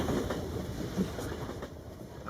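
A train in a video game rail yard in City 17 rumbles along at moderate distance, a steady low clatter of rolling wheels with faint rhythmic knocks.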